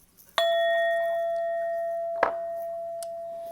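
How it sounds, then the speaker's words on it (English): A small bell rings with a clear ding that rings out and slowly fades, then a second lighter tap sounds near the end, close and distinct in a quiet room. "We're just going to ding the bell."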